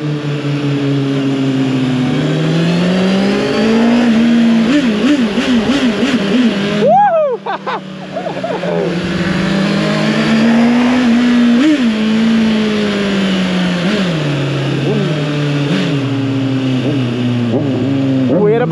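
A 2023 Honda CBR 650R with its original exhaust revs loudly and close by during a ride, the engine pitch climbing and falling in repeated swells, briefly cutting out midway.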